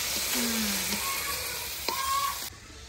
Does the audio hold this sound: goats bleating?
no